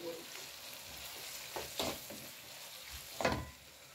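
Tomatoes and salt fry in a pan for a kokoreç dish, giving a faint, steady sizzle with a few louder stirring scrapes, close and quiet, with no talk.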